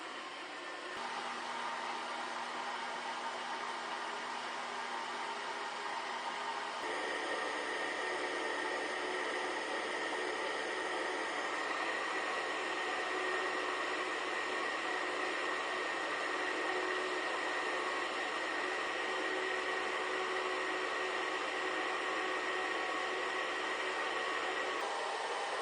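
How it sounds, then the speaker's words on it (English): Strong turbo fan in the back of a DIY ice air cooler with two 4-inch vents, a steady whirring drone with a slight shift in pitch partway through, constant and fairly close. "Got the two 4-inch vents and super strong turbo fan in the back."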